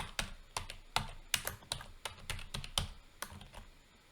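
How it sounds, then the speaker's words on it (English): Keystrokes on a computer keyboard while entering words into an Excel IF formula, a steady run of about a dozen crisp, close clicks at an uneven pace, with no voices. "I'm just going to type the words in."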